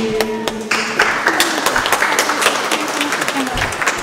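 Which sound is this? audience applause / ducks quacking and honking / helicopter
audience applause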